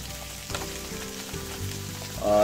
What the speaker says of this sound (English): we're gonna put our crab meat on, and we're gonna kind of cook it a little bit with the butter